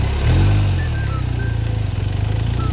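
A motorcycle in beginner riding practice rolls off the throttle, brakes and pulls in the clutch to stop, its engine a steady low rumble that eases toward idle, close and loud.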